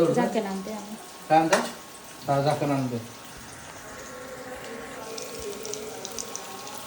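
Spices fry in ghee in a pan. A voice talks over the first half, then a low, continuous sizzle carries on alone at moderate distance.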